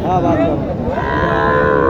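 A calf moos at the Mataji cattle market in Naogaon, a loud, drawn-out bovine call close by over the steady market din, with no voices standing out.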